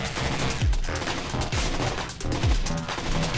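Gunfire rings out in the tactical shooter Rainbow Six Vegas. Several heavy, close shots burst out in quick clusters roughly a second apart over a constant rumbling game soundscape.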